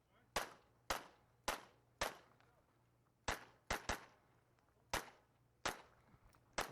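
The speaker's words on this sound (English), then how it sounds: "I just blew over that first shot." Gunshots ring out on a shooting competition stage, about ten sharp cracks in uneven bursts, some in quick pairs and others spaced apart, each decaying quickly with a brief echo.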